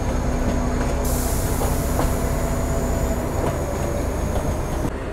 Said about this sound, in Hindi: नूरपुर रोड से लगभग 90 किलोमीटर का डिस्टेंस हमारी इस ट्रेन ने कवर कर लिया और पहुंच चुकी है नगरोटा